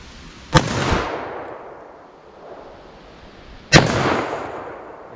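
Two sharp handgun shots from 10mm and .44 Magnum pistols fired with Hornady Custom XTP ammunition, about three seconds apart. Each loud outdoor crack trails off into a rolling echo, and no voices are heard.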